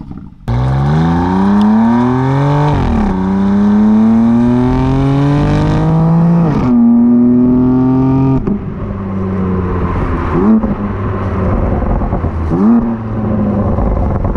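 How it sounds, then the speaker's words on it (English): A BMW M4 Competition accelerating hard through the gears, engine pitch climbing loud and close, dropping at each upshift about every two seconds, then easing to lighter throttle blips with no talking. "It's been a very long time since I've been at the wheel of an M4 Competition."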